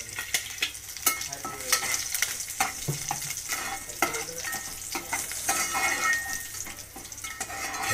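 Bay leaf, garlic and curry leaves crackle in hot oil in a pan, a steady bright sizzle punctuated by frequent sharp scrapes and clinks of a spoon stirring against the metal.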